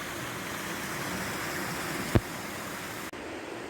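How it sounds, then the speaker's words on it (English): A small tributary stream on a Peak District slope runs into a brook, a steady, soft broadband rush of flowing water heard close by with no talk, broken by one brief knock partway through. "we're now at a little tributary that's running into the brook"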